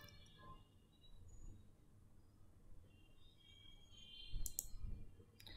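Sharp clicks from a computer mouse during work in Power Automate on a SharePoint list, a quiet scattering of taps with a brief louder pair of clicks near the end.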